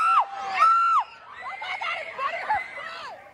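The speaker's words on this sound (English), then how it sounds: "All these people are screaming." A crowd at the Hershey Park amusement park screams and shrieks at a raccoon, high piercing cries from children and adults rising and falling in bursts, loud and close with scattered shouting throughout.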